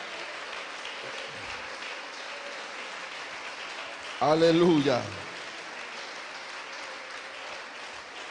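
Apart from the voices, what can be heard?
congregation applauding in church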